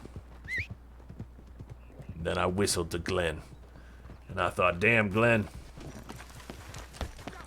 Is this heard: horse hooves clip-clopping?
yes